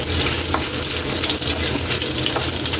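Milkfish (bangus) sizzles loudly and continuously in hot oil in a frying pan, a dense close crackle with faint stirring.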